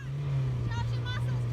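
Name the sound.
vehicle engine revving during sand recovery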